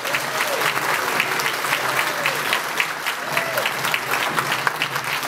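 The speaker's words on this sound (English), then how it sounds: "Let's give a big round of applause." A reunion crowd gives a sustained round of applause for the event's two co-chairs, dense, even clapping filling the room throughout with a faint murmur of voices underneath.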